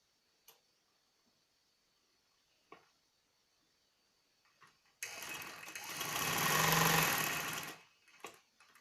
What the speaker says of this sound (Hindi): बेल्ट को इसके साथ जोड़ें और सिलाई लगा दें।